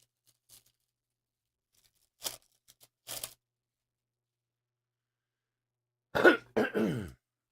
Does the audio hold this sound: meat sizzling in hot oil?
no